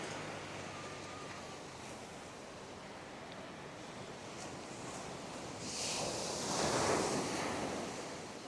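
Sea waves at Karon Beach, a continuous broadband surf wash with wind noise, swelling louder as a wave breaks near the end, no voices.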